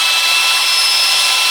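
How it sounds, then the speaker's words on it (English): A power drill running forward threads a nut steadily down a threaded rod, giving a loud, continuous high-pitched whir that stays close and even throughout, with no talking. "put the drill on forward"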